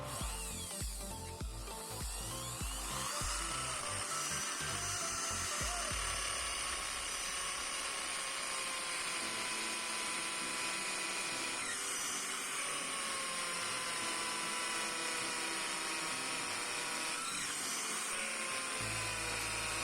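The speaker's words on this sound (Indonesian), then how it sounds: "Kita coba akan mengebor tembok dari bata merah ya. Di sini saya menggunakan mata bor beton dengan diameter 8 mm." A Bosch GSB550 impact drill with an 8 mm concrete bit bores into a red brick wall, running continuously at a high whine with a rattling hammer texture for nearly twenty seconds, close and steady.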